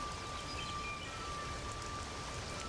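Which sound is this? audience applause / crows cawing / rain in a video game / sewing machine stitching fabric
rain in a video game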